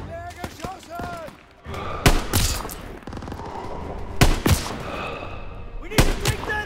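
Gunfire in the Call of Duty WW2 game, with sharp shots and bursts at about 2, 4.3 and 6 seconds, set against a battle soundscape with voices.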